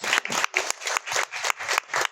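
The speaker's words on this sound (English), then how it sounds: "So let's give her a round of applause." An audience at an alliance launch event claps briefly, with several close, quick bursts of applause in a regular pulsing rhythm and no talking.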